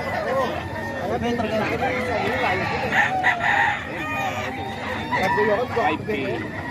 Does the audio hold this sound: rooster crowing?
yes